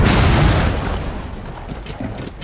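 A thermite breaching charge blows through a wall in Rainbow Six Siege, a loud, deep blast at the start that rumbles and fades over a couple of seconds with faint debris crackle after.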